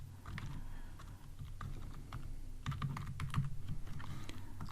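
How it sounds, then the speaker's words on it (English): Computer keyboard typing during a Kotlin programming session, a steady run of quick, close key clicks with a denser, busier burst toward the end, alone without talk. "Let's type success here."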